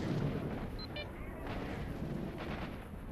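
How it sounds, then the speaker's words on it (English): Sniper gunfire in the game S.T.A.L.K.E.R.: Shadow of Chernobyl, a dense rumbling barrage of low booming shots that rolls on steadily without pause, with faint game sounds scattered over it. "who's shooting at me?"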